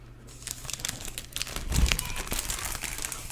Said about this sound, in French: Écoutez ça. La douceur du bruit. Du plastique.